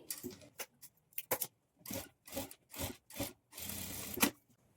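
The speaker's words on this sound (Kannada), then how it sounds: "ಈಗ ಇದನ್ನು ಇನ್ಸೈಡ್ಗೆ ಫೋಲ್ಡ್ ಮಾಡಿಕೊಂಡು ಎಡ್ಜ್ಗೆ ಸ್ಟಿಚ್ ಹಾಕ್ಕೊಳ್ಬೇಕು" A sewing machine stitches along the folded edge of a blouse lining in short, separate bursts of rapid whirring, each run lasting under a second, with brief pauses between them. It sounds close and moderately quiet, and nobody talks.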